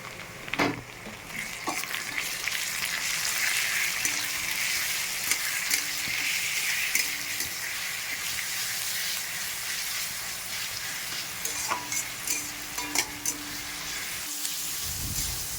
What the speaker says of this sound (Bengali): মশলাটা সময় নিয়ে ভালো করে কষিয়ে নেবো